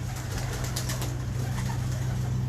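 Low pigeon cooing sounds close by over a steady background hum, with a faint flutter of wings in a short stretch.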